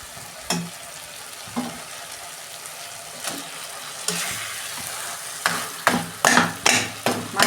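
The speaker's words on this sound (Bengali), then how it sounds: "আমি মাছের মাথা দুটো দিয়ে দিচ্ছি" Two fish heads go into spiced masala frying in a pan, and a low steady sizzle runs throughout. Sharp spatula scrapes and knocks punctuate it, sparse at first and then coming in quick, close bursts near the end.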